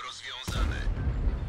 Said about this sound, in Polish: I razy 1, bo tu zaraz będzie artyleria.